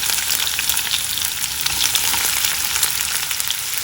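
Onions and curry leaves sizzle in hot tempering oil with mustard seeds for a brinjal fry, a dense, steady crackle with no break and no talk.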